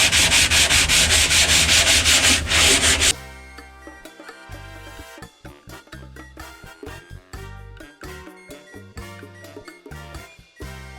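Abrasive sanding over plastered joints on Viva fibre-cement board, a loud continuous scraping rasp for about three seconds, then scattered lighter rubs, taps and clinks.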